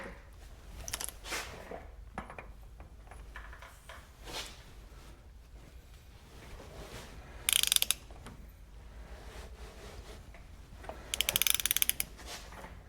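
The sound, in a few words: spinning a classic GM front brake rotor hub to seat wheel bearings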